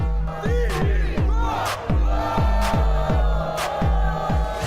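São Paulo football supporters celebrate in the street outside Morumbi stadium, a loud crowd chanting and roaring with rhythmic thumping drum beats and firework-like bangs throughout.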